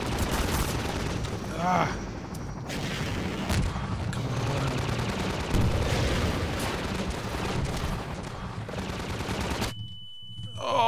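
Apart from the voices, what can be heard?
gunfire in Half-Life 2, video game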